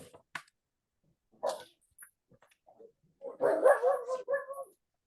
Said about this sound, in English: Pardon my dog barking.